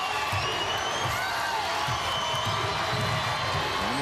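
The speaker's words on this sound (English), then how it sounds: "They got a nice crowd." A large crowd at a girls' class AAA state basketball final makes a steady, dense roar of cheering throughout the arena, a continuous wash of voices with scattered shouts and thumps.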